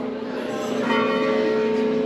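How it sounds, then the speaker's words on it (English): Church bells in Dubrovnik, Croatia ring with a sustained, resonant tone, steady and fairly loud throughout, with no talking. "Said how much I love church bell sounds."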